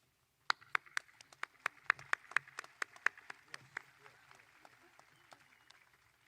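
Scattered applause for seniors at a 2020 Broome High School commencement, sharp individual claps from a small crowd, dense at first and then thinning out over several seconds, with no talk over it.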